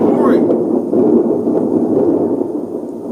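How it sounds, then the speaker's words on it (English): A thunder sound effect plays as a loud, continuous low rumble that rolls on without a break, with no talk over it. "Thunder."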